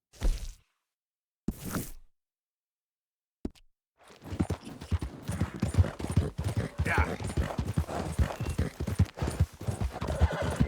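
Horse hooves clip-clop in a steady trot in Red Dead Redemption 2 beneath constant talking, following a few short bursts of sound and brief silences.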